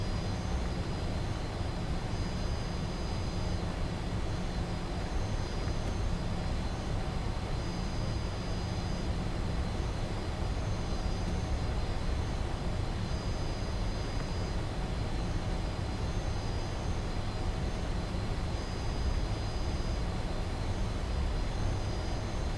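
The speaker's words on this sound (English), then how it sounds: "For taxi, you do have to keep your speed in check. This is an aircraft that just wants to keep going." Fokker F28 jet taxiing in Microsoft Flight Simulator 2020, a steady loud engine roar and whine that holds constant from start to finish with no voices.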